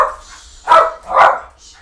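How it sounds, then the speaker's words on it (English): Scout, a pet dog shut out of a home office, lets out two loud, close barks about half a second apart, with soft whining noises just before them. "Shh, stop barking."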